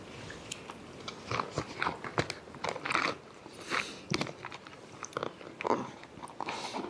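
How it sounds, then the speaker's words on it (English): Someone chewing crunchy sweet corn in a chicken carbonara camping meal: close, irregular crunching bites and mouth sounds come in quick bursts, with no talking. "Not crunchy in a bad way. Crunchy as in sweet corn,"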